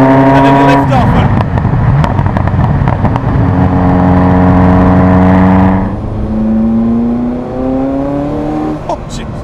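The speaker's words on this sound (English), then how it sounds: "It sounds so good when you accelerate it and then you lift off." A Ferrari F40's engine revs hard under acceleration with a rising, loud, close harmonic howl, then lifts off and the pitch drops away into a lower, steadier drone that fades toward the end.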